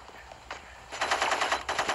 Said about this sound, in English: They basically take about 3 to 4 shots just to destroy a police vehicle.